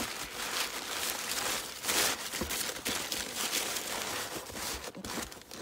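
Brown packing paper crumpled and crinkled while wrapping cobalt blue glass Arcoroc mugs, a continuous close rustle with irregular crackling bursts and no talking.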